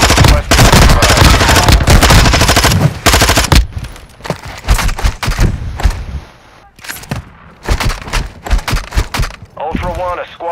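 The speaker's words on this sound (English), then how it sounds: "You are taking effective fire." Dense automatic gunfire in Call of Duty: Modern Warfare II rattles in loud sustained bursts, then gives way to scattered single shots and short volleys under intermittent radio voices.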